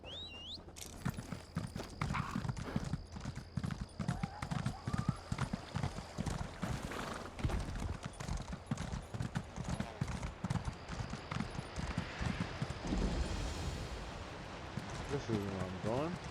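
Horse hooves gallop in a fantasy role-playing game, a steady clopping rhythm that runs the whole way under a continuous wash of game ambience and music, with a voice speaking over parts of it.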